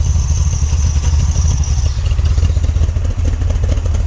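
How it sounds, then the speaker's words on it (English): Idling engine of a 1970s Dodge van with the transmission in gear: a steady, loud, low rumble with a slightly uneven, lumpy beat that runs throughout without any rise in revs. "Michael, put her in gear, see how she idles"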